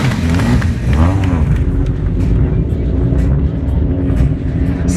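A hill climb rally car driven by Daniel Zhivkov, racing on a mountain course near Varna, revs hard and close. The loud, rough engine drone rises and falls in pitch and runs continuously through the whole clip.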